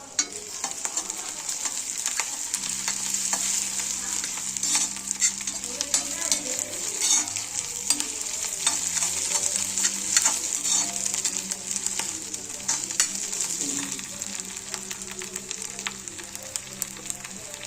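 Ground paste of coriander, chili, ginger-garlic, curry leaves and mint frying in a pan for gobi manchurian, a continuous close sizzle with crackling and occasional stirring scrapes throughout.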